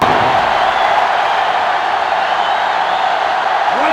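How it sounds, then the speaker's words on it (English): Steady roar of a packed, sold-out stadium crowd in the NCAA Football 07 video game, Wisconsin at Michigan, a loud continuous wash of noise with no clear breaks. "This sellout crowd is really making a difference now as these guys can't even call the play."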